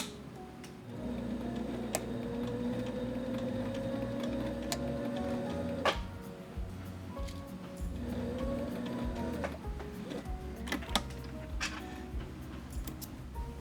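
A sewing machine stitches a rolled edge hem with a steady, close, rapid mechanical chatter. The run is broken by brief pauses and clicks, and no one talks.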